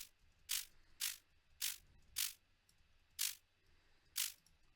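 Crunchy, crispy snare hits layered with noise and shaped with EQ, six sharp bright bursts spaced roughly half a second to a second apart over a quiet background, each short with a fast decay.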